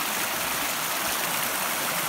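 Brook water rushes steadily past a small dam and inlet pipe at a camp, a continuous broadband wash of flowing stream with no pauses, close and fairly loud.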